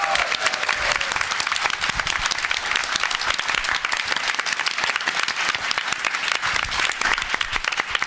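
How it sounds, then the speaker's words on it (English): A convention panel audience gives a round of applause, loud and continuous crowd clapping that holds steady for the full eight seconds with no talking over it. "So can we give a round of applause for Jackalap"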